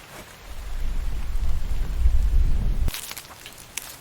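Rain pours in a survival video game called The Infected, a dense low rushing patter that swells for a few seconds, then cuts off abruptly into quieter ambience.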